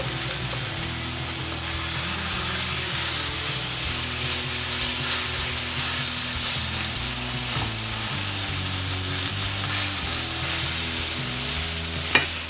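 Pork neck steak fries in a pan with a loud, steady sizzle and crackle throughout, the spattering close and constant with no voices over it.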